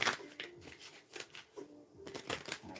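Tarot cards being shuffled by hand: close, papery riffles and slides in quick, uneven bursts with short gaps between them, quiet and with no talk.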